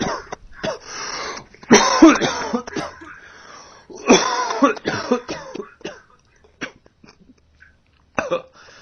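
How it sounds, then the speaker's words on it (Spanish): A person coughs in several harsh bursts separated by short pauses, close and loud, with a breathy throat-clearing quality. "una persona infectada y que tose o estornuda emitiendo secreciones sin control"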